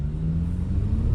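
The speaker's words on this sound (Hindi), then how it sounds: "अब चलिए गाड़ी को चलाते हैं" An MG Majestor 4x4 pulls away in sport mode, a steady low engine rumble with a faint rising rev close by, continuous through a brief moment with no talk.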